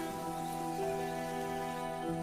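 Steady heavy rain pours through the Tambopata rainforest, a dense continuous hiss of drops on leaves with faint tonal hums underneath, no voices.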